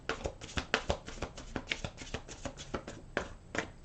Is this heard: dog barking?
no